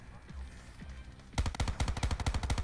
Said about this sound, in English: That's me shooting you.